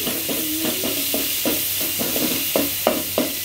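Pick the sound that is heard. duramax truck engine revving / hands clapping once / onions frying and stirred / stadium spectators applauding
onions frying and stirred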